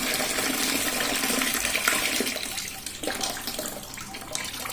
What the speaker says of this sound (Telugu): 2 సార్లు ఇలాగా బాగా వాష్ చేసుకోవాలన్నమాట రాగుల్ని